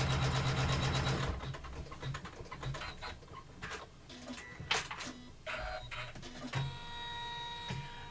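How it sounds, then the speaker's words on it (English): An embroidery sewing machine stitches a wallet in the hoop, starting with a fast steady whir of stitching, then a sparser stretch of clicks, thumps and short motor whines as the hoop shifts, and finally a quieter hum. "The last stitch is going to come along and stitch up the back with a triple stitch"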